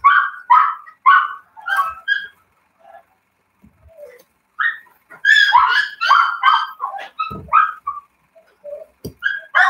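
Dogs barking near their kennel at a cat nearby, a series of sharp, close barks and yips in irregular bursts separated by short quiet gaps, with a few whimpers between.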